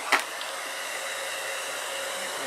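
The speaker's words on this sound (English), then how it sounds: "Now we're just going to blow dry that a little bit." Hair dryer blowing on a Mod Podge craft round with spring florals, a steady loud close rush of air after a brief click at switch-on.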